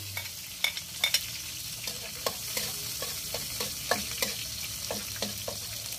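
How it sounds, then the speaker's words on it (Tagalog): Garlic sizzles steadily in a hot pan while a utensil stirs and scrapes, giving repeated sharp clicks over a constant frying hiss, close and moderately loud with no talking. "Magigisa na po tayo. Lalagyan na po natin ng bawang."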